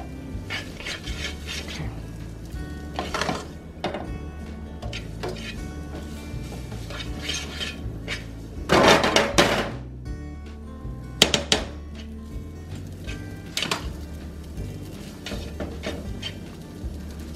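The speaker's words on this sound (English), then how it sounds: "just pan fry." Noodles pan frying with spices, a steady low sizzle broken by scraping and clattering of a utensil against the pan, with a louder burst of stirring midway.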